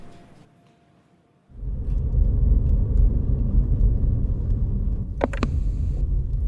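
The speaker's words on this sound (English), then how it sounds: "Sounds like my stretched limo to the Golden Palace has arrived." A stretched limousine pulls up with a loud, steady engine rumble and road noise that kicks in after a quiet opening and keeps going to the end, broken by a couple of brief sharp higher clicks near the finish.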